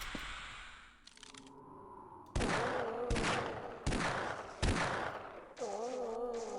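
Gunfire in the Half-Life video game: five loud, crisp shots ring out at a steady pace of about one every three-quarters of a second, each trailing a short echoing tail, with no talking.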